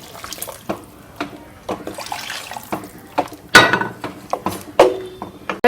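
Water is poured into a pot of fish curry (meen kulambu), giving splashing, irregular pours and clinks over roughly six seconds, close and moderately loud, with no voices.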